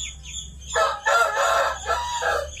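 A young gold-colored rooster (stag) crows loudly and clucks close by on a poultry farm, with a couple of short calls leading into a longer crow and a final burst.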